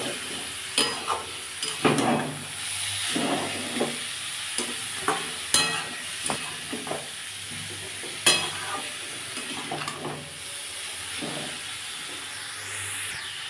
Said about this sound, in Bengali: এবার এটাকে দিয়ে আমি আবার একটু কষে নেবো